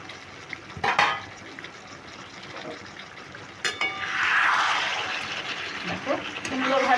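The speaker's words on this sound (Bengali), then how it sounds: "এবার আমি ঢাকাটা খুলে নিচ্ছি" A cooking pot holding pumpkin and potato curry with shrimp, its lid clattering off with a sharp metallic clink, then a swell of hissing sizzle from the uncovered pot, followed by further clinks; a voice talks over it.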